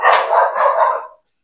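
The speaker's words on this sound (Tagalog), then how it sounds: "pasensya na doon sa mga aso kanina. Medyo maingay." Dogs barking nearby in the Philippines, a loud run of several overlapping barks lasting about a second before stopping, with no talk over them.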